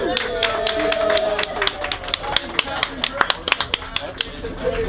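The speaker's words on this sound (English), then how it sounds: "how about we give our pilot a nice round of applause?" Scattered hand claps from a small tour group after a Hawaii submarine trip, thinning out into sparse individual claps mixed with chatter and talk nearby.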